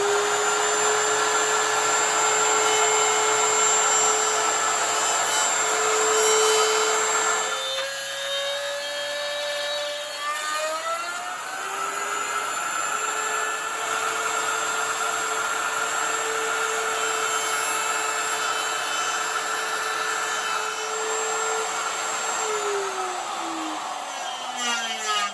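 A wood router with its extra sleeve fitted and the plunge base removed, cutting a speargun blank: a loud, steady high-pitched whine that sustains throughout, dipping and shifting pitch as the bit loads into the wood and then recovers.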